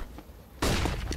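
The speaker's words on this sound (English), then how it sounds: "Deploying flashbang." A flashbang grenade goes off in CS:GO with a sudden loud burst and a ringing, noisy tail that cuts in partway through, following quieter game ambience.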